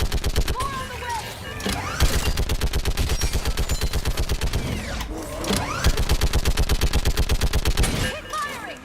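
Sustained automatic gunfire in a Mass Effect 3 battle, rapid rhythmic bursts hammering almost continuously with brief pauses, loud and close, while voices shout over the fighting.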